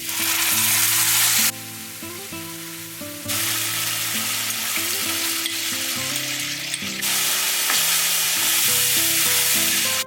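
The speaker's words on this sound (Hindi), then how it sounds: "थोड़े से खड़े मसाले, अदरक, हल्का सा सौटे करते ही टमाटर ऐड कर दिया है।" Whole spices, ginger and tomatoes sautéing in a pan make a continuous sizzle with stirring, heard under background music that runs throughout.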